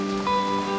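Rain falling on a sailboat at anchor in the Solomon Islands, a steady patter of drops heard alongside a sustained tonal hum, with no one talking.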